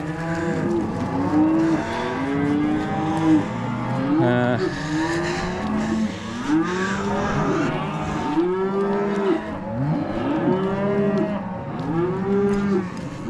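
Weaning calves, heifers and steers, moo and bawl again and again in overlapping calls, loud and close, forming a continuous chorus of a herd.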